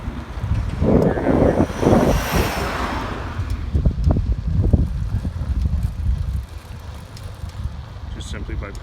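A prototype 350-watt, 36-volt ebike kit riding fast on high pedal assist, with a steady motor hum under heavy wind rush and rumble throughout.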